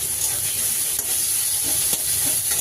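Onion, tomato, garlic paste and ginger paste with salt frying in a pan for a spicy fish curry masala, a soft, steady sizzling hiss with a few faint stirring scrapes and taps, no voices.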